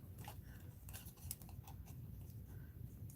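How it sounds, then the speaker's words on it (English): Small scissors snipping through material in a recycled upcycling craft project, quiet close-up crisp cuts repeating in an irregular rhythm, with no talking. "I got a smaller scissors."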